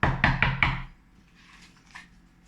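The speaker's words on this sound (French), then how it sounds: "Puis soudain, le loup frappa à la porte." Four quick, solid knocks on a door, close and loud in an even rhythm, followed by a quiet pause with faint background sounds.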